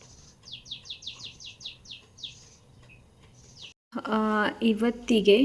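Small birds chirp outside in quick rapid trill bursts, fairly near, while a cat sits watching to hunt them; after a pause a voice speaks over the closing moments.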